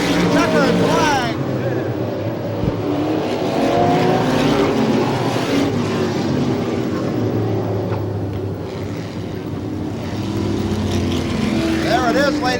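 Race cars roaring past at the checkered flag of a 200-lap 1988 ISMA event, a loud sustained engine drone with a commentator talking over it throughout.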